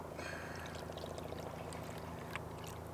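Water pouring steadily into a Trangia camping stove pot, one deciliter, a continuous close trickling stream with no voices.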